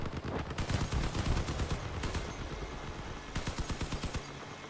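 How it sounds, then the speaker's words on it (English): Machine gun in the vehicle combat game Crossout fires rapid, evenly spaced bursts that stop and start, loud and close, with no talking. "the machine gun helps me check where my enemies are"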